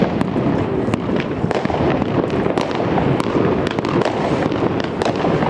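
New Year's Eve fireworks and firecrackers over Gdańsk Stogi, a dense, loud, nonstop barrage of crackling bangs and sharp pops coming from all around.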